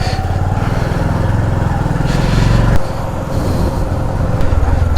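A motorcycle rides along a road at 4:30 in the early morning, with a steady, close engine drone and a brief shift in pitch midway, heard alone without talk.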